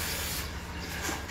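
Silicone oil sprayed from an aerosol can onto an airsoft gun, a short, soft, steady hiss close by with no talk.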